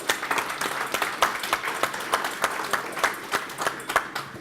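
Audience applause for company sponsors' representatives at a live dragon-themed stage event in Sydney, a steady wash of many hands clapping that holds evenly for several seconds.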